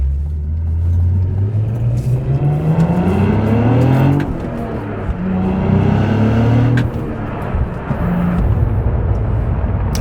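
A Cadillac CT4-V Blackwing with a manual gearbox launches hard from a standstill, its engine roaring loud and close as revs climb through several gear changes, with no talking.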